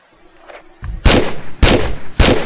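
Gunshots in the video game Tomb Raider 3: three loud, sharp game gunfire bursts spaced about half a second apart, each a hard crack with a short tail, after a quiet lead-in.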